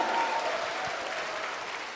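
A church congregation breaks into applause, a dense wash of clapping that stays steady and slowly eases over a couple of seconds.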